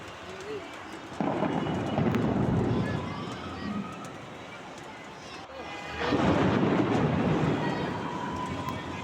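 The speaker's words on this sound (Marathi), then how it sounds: "बघितलं ना किती जोरदार कडकडाट होत होता" Loud thunder rumbles in two big rolling surges amid a monsoon rainstorm, with voices and children talking underneath.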